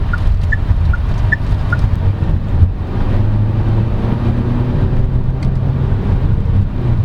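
A 2022 Chery Tiggo 8 Pro front-wheel-drive SUV with a 1.6-litre turbo engine being driven hard, giving a steady, loud blend of engine drone, road roar and wind noise throughout.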